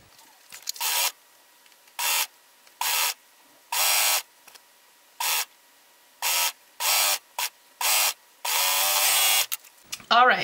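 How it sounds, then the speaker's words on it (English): Serger stitching around a T-shirt neckline in repeated short bursts, each a steady mechanical whir lasting under a second, with a longer run near the end and quiet pauses between. "once it's all sewn in with my serger"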